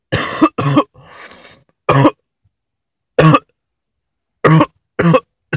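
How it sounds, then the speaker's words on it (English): Someone coughs in a string of sharp, loud, close bursts: two quick coughs, a raspy throat-clearing breath, then single coughs spaced a second or more apart with silence between them. "Why do I keep coughing?"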